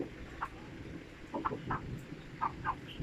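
Native chickens cluck in short, scattered bursts close by over a low, steady background murmur.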